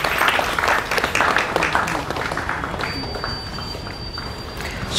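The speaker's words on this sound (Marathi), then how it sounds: "टाळ्यांचा गजरात सन्मान व्हायला पाहिजे ना" Applause from a religious gathering honouring the Pawar family, a dense, steady wash of many hands clapping close and loud throughout, with a thin high tone entering partway through.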